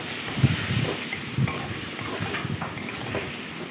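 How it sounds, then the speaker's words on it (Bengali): Potatoes frying in a pan in a home kitchen, a soft steady sizzle broken by a few brief stirring clatters, with no voices over it. "আলুটাকে ভাজতে বসিয়ে দিয়েছি"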